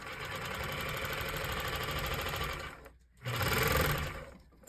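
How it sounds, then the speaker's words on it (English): A Techsew 202 sewing machine motor runs with a steady, close mechanical whir and rapid rhythmic ticking, cuts out briefly, then surges back louder before fading. "So the motor's engaging before it has enough power to move the needle"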